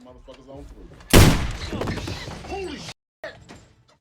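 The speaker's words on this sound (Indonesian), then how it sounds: "Pitty harus tertembak oleh pistol milik Dorsey hingga membuatnya tewas." A single loud, sharp pistol gunshot cracks and then rings out in a dense decaying burst, among cinematic sound effects and some voice.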